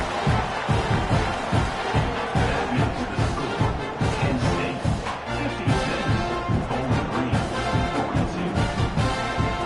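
A dense stadium crowd at a college football game between Kent State and Bowling Green roars continuously after a touchdown drive and extra point, a loud, sustained wash of cheering with no gaps.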